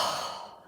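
A voice imitates panting from hard digging and building, a single breathy sigh-like exhale that fades over under a second, close and fairly soft.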